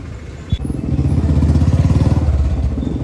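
A Royal Enfield Bullet motorcycle engine fires up and settles into a loud, close, steady thumping idle with a rapid pulsing beat, no talk over it.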